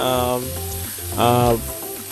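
Diced onion and minced garlic sizzle in butter in a pan for a carbonara, a steady close frying hiss with stirring, overlaid by a voice-like harmonic tone.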